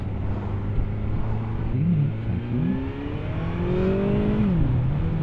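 A 2021 BMW S1000R motorcycle engine holds a steady, loud drone around 4,000 RPM, its pitch dipping and rising slightly as the throttle shifts, close and alone with no voices.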